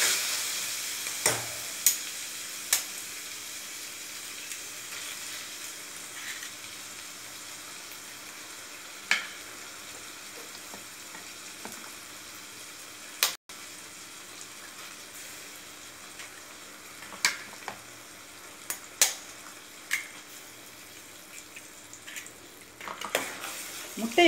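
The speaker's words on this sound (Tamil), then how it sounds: "முட்டையை போட்ட உடனேயே நல்லா அப்படி சுருள சுருள கிண்டி விட ஆரம்பிச்சிடணுங்க" Eggs and broccoli frying in a pan for poriyal, a low steady sizzle with occasional sharp scrapes and clinks of stirring.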